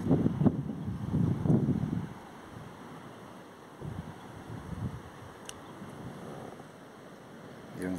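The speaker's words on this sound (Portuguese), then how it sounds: "A água tá muito agitada, tem muito vento." Gusty wind buffets the microphone from a fishing kayak on an agitated lagoon in southern Brazil, with heavy low rumbles in the first two seconds and again midway, then a quieter hiss of wind and water.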